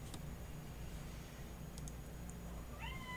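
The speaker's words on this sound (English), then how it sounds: "my cat's saying hello" A house cat gives one short, quiet rising meow near the end, after a stretch of faint background hiss and a few small clicks.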